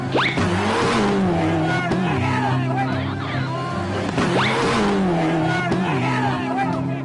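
Rally cars speeding past on a road at the Bolivia Rally, with two distinct engine pass-bys rising and falling in pitch about four seconds apart, loud and close, with voices talking underneath.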